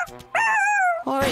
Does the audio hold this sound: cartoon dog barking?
yes